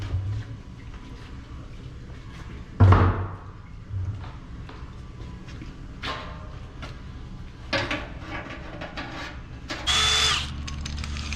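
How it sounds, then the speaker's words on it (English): A cordless power drill whirs in several short bursts while drilling a hole for a diesel fuel sump, with clunks and handling noises between them, close by and fairly loud. "we're gonna drill the bigger hole in it"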